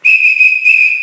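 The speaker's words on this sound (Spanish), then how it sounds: "el silbido no puede faltar." A single sharp, high whistle blown loudly and held for about a second, wavering slightly, with nothing else around it.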